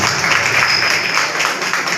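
A crowd claps in a dense, continuous round of applause at a hospital award ceremony in Gudur that holds steady throughout.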